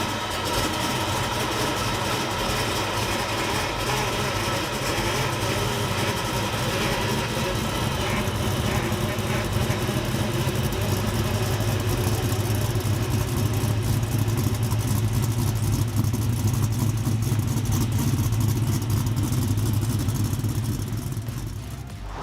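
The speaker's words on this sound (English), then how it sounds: "The exhaust note rumbles thanks to manual bent stainless exhaust all the way out the back" A 1969 Camaro V8 with a hand-bent stainless exhaust rumbles steadily and loudly at a continuous idle, with a deep, even drone running the whole length.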